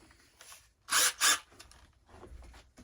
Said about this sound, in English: the way I'm going to be doing it is just taking the drill bit